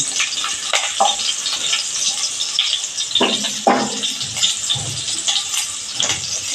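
Green chilies frying in hot oil with cumin seeds, a steady bright sizzle with occasional stirring scrapes and crackles, close and continuous, no talking.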